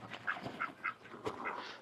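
Farm ducks give a run of faint, rapid quacks in a quiet outdoor setting, several calls in quick succession with no voices.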